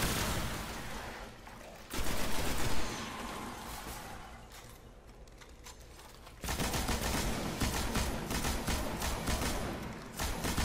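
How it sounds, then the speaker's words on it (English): Heavy weapon gunfire in the Destiny video game: sustained, loud automatic bursts in two long, dense stretches separated by quieter rattling, with no talking. "So this is the heavy weapon."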